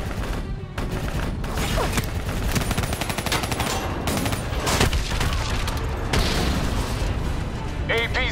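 Dense, continuous gunfire in Call of Duty Black Ops III as players shoot at a VTOL aircraft near a hangar, with rapid bursts and booming impacts throughout and voices talking over the battle.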